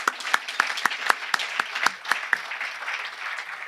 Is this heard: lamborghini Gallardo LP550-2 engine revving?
no